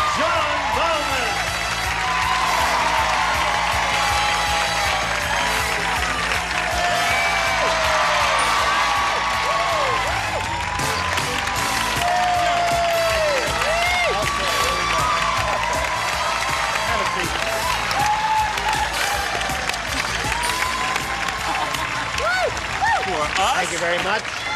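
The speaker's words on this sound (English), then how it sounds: "you were right to applaud them as briskly as you did" A game show studio audience claps and cheers loudly and steadily, a dense, continuous wash of applause with whoops that holds for the full stretch.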